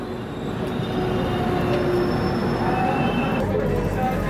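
The Shipra Express rolls through Katni junction, a steady loud rumble of wheels on rail with faint squeals, and a voice talking briefly over the noise.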